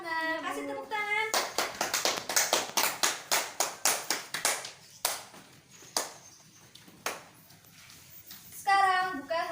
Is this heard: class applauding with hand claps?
yes